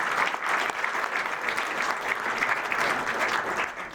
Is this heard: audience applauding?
yes